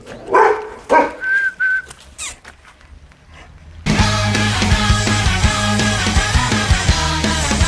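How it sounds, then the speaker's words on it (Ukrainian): A few sharp dog barks in quick succession, then the barking stops and loud music takes over for the rest. "Ти чого гавкаєш?"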